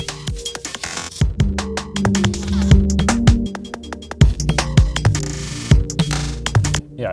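IDM electronic music assembled from synth recordings, glitchy percussive hits scattered over sustained tonal synth layers, loud and dense with irregular stuttering rhythm and no voices.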